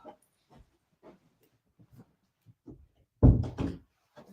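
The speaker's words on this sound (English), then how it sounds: "I'll just close this door again." A door being pushed shut indoors at home: one heavy thud with a short rattle near the end, loud and close, after several seconds of faint scattered soft noises.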